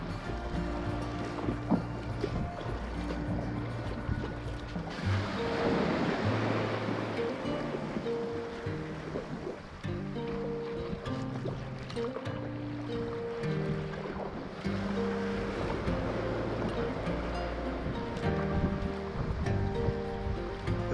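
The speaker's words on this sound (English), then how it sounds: "Lazy paddle strokes." Kayak paddle strokes dipping into shallow water near the Tasmanian shore at Little Musselroe Bay, soft rhythmic splashes over lapping waves and wind, with a low steady hum throughout.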